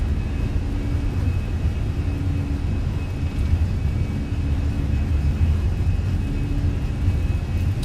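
Airbus A320 engines at takeoff power during a Fenix A320 flight in Microsoft Flight Simulator, a steady, loud, low jet roar with a thin whine on top, unbroken throughout.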